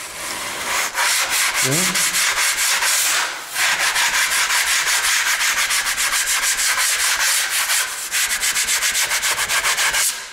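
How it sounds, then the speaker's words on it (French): Hardened joint compound being scraped off the seams of an interior wall during renovation: loud, continuous rasping strokes with brief pauses between passes, and one short spoken word. "maintenant, je vais gratter pour enlever toutes les petites coutures"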